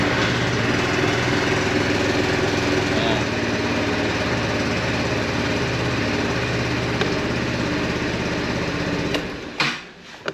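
A Modenas Elegan 250 scooter with a weak battery cranks and runs in a steady rattling whir that cuts out abruptly near the end, followed by clicks and handling noise.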